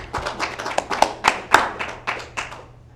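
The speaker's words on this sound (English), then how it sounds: "Let's applaud everyone for your contribution." Small group at a collaborative meeting clapping, about a dozen distinct close claps in an uneven, thinning rhythm that fades out after a few seconds, with no talk.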